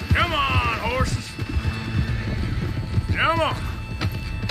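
Horses in Red Dead Redemption 2 snort and whinny twice in loud bursts over a low, steady rumble of their movement.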